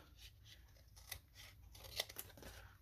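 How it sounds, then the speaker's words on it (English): Scissors trim the edges of paper in a few close, crisp snips and rustles, with a sharp click near the end, quiet overall. "Then I can go back through and trim those edges off."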